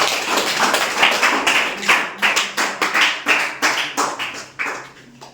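An audience at a Ramayana quiz claps for several seconds in quick, fairly regular bursts that fade out toward the end, with no talk.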